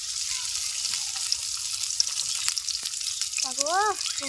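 Green chilies, onion and garlic hit hot oil in a pan and sizzle steadily, with a few sharp crackles and a brief whistling tone near the end.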